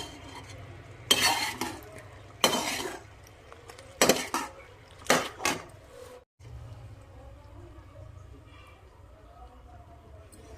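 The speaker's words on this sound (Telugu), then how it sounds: "బెల్లం మరుగుతుంది కదండి" A spoon stirs boiling jaggery syrup in a pan, with several loud scraping and clattering bursts over the first six seconds, then a quieter steady bubbling simmer.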